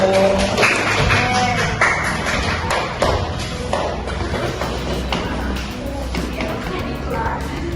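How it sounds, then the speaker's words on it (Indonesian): A group claps together in a steady burst of applause that carries on throughout, with voices chattering underneath. "Tepuk tangan dulu untuk kelompok aku"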